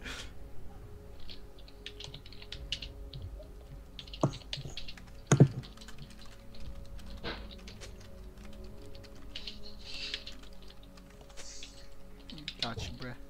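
Computer keyboard typing during League of Legends gameplay, a run of light, quick key clicks that sit under game voice lines and effects, with one or two sharper taps standing out midway.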